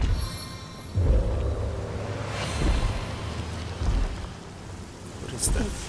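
Rain spell cast in the Divinity: Original Sin Enhanced Edition video game, a steady hiss of falling rain with low rumbling thunder-like swells that recur every few seconds, loud and continuous without speech.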